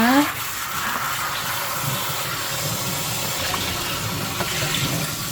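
Lettuce leaves rinsed by hand under steady running tap water, a continuous close splashing wash with soft handling noises throughout and a voice speaking intermittently over it.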